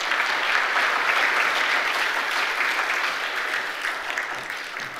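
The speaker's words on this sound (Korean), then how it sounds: "박수로 축하하겠습니다." A church congregation applauds during a Sunday service, a steady, dense wash of clapping that fills the room continuously and tapers off slightly toward the end, with no talk over it.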